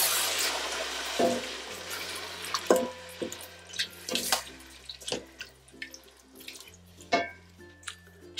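Wine pours into a pot of Spanish-style beef tripe stew with bay leaves, giving soft liquid splashes and drips, then intermittent clinks and small knocks against the pot, close and fairly quiet, with no speech.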